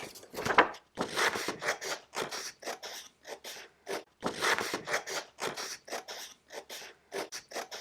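Scissors cut a paper circle out for a hat brim, giving a close series of crisp snips with short pauses, quiet and without speech.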